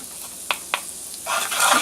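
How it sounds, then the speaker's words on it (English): Garlic added to onions in a hot pan: two light taps, then a soft, steady sizzle builds and holds, close and quiet, with no talking. "Cook just a little bit of garlic in with that."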